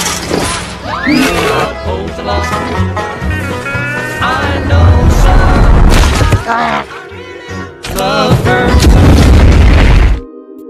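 Explosion in a box office action film as someone blows himself up: loud booming blasts and crashes mixed with dramatic music and effects, with brief voices and a sudden cutoff at the end.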